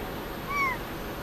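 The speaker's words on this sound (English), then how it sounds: "You got them funny cat noises" A single short, rising-then-falling meow from a cat, fairly quiet against a faint background hum.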